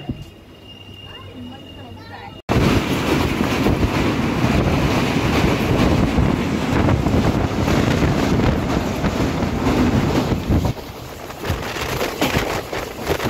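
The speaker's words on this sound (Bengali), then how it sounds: "ধেমাজি রেলওয়ে স্টেশনে 2 মিনিট স্টপেজ দিয়ে ধেমাজির থেকে ছেড়ে যাচ্ছে" The 15814 MZS-DKGN Express pulls out of Dhemaji railway station after a two-minute stop, a loud continuous rumble and wind roar that starts abruptly after a quieter opening and holds steady, with talking underneath.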